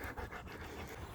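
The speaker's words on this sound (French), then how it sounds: "Allez, viens mon chien." A dog pants close by after a walk, quick rhythmic breaths repeating softly and evenly through a brief moment.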